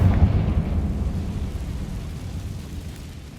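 Confringo fire spell blast in Hogwarts Legacy, a deep booming explosion that hits hard at the start and rumbles away into a fading roar.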